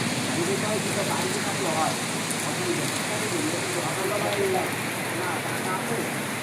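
Rain falls steadily on flowering hibiscus plants and garden greenery in the Andaman Islands during monsoon, a continuous close hiss of drops with faint scattered chirps, no one speaking.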